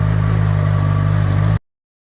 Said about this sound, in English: Listen to that motor.